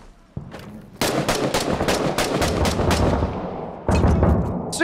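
Gunfire in the video game Six Days in Fallujah rattles almost without pause in loud bursts of rapid shots. A short gap is followed by another heavy burst.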